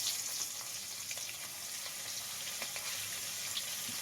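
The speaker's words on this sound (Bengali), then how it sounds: "ফুলকপি আলুটা কিন্তু হালকা গায়ে একটু নাড়া দেবো যাতে কালারটা নষ্ট না হয়, ঠিক সেইভাবে কিন্তু ভাজতে হবে" Cauliflower florets and new potatoes fry quietly in oil for a Bengali fish curry, giving a soft, steady sizzle with occasional light crackles and gentle stirring; faint and close, with no talking.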